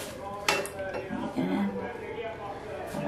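A metal pan is set down on top of another pan while making Dublin gur cake, giving one brief clank up close in the first second; a person keeps talking over and around it.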